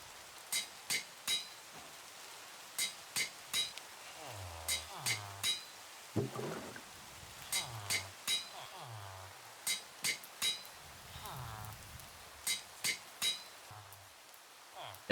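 Rhythmic metallic clinks of a hammer striking a heated ingot on an anvil in a Minecraft modpack, sounding in quick bursts of two or three blows with short pauses between, crisp and fairly close, with no talking.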